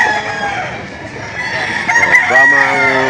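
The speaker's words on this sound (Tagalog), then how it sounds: "Ayan o, malaking manok." Brahma rooster at a Lipa auction market, crowing and clucking loudly close by, with busy market noise and faint voices behind it.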